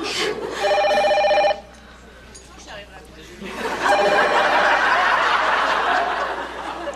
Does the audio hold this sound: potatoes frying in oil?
no